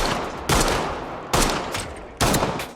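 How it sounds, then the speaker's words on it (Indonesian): Gunfire in an action film shootout: three sharp, loud shots spaced almost a second apart, each ringing out with a decaying echo, no speech. "Jerry melepaskan tembakan hingga aksi baku tembak pun gak bisa dihindarkan."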